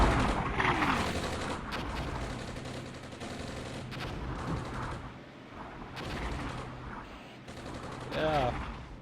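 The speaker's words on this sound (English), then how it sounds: "And the mortars are falling." Mortar rounds and gunfire in the war game Armored Brigade, a busy stretch of overlapping blasts and crackling shots at moderate loudness, with a voice talking over them.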